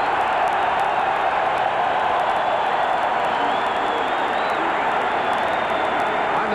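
Loud, steady roar of a football stadium crowd at the 1987 Rose Bowl, a dense wash of cheering and shouting that never lets up, with a faint voice talking beneath it.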